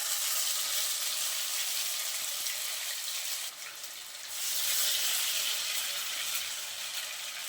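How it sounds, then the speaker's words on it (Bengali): Ground spice paste sizzling in hot mustard oil in a pan, a loud steady hiss that runs without a break, briefly dipping midway before surging back, with no talking. "তেলটা আমি ভালো করে গরম করে নিয়েছি, আর এখন বেটে রাখা মশলাটা তেলের মধ্যে দিয়ে দিচ্ছি"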